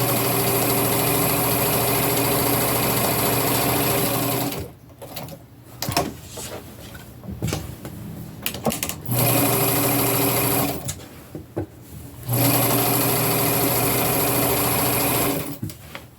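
A sewing machine runs in long steady bursts while back stitching a garment, with a buzzing mechanical whir that stops and restarts between passes, loud and close.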